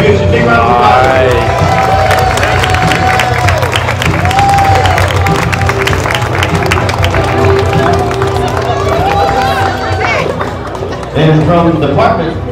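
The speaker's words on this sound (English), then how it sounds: "Big round of applause." A Halloween costume contest crowd breaks into loud applause and cheering, with clapping, whoops and shouting voices rolling on continuously over background music and chatter.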